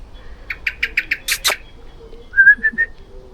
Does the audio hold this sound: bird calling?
yes